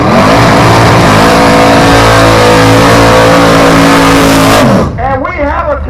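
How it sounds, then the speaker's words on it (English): A drag racing car at an event holds a loud, sustained engine rev with tire-screeching burnout roar for nearly five seconds, then the engine drops and pulses at a lower idle while an announcer talks over it. "My goodness, what a burnout."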